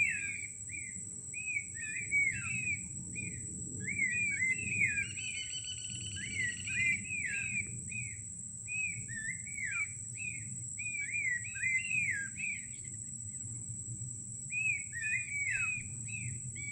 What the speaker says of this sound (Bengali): এই যে পাখিটা ডাকছে